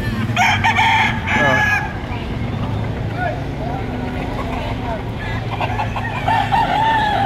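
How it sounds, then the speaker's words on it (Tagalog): Roosters crow repeatedly and chickens clucking in a busy yard at a fair in Padre Garcia, with a low engine hum underneath and a voice talking over part of it. "Yan ang mga manok nila."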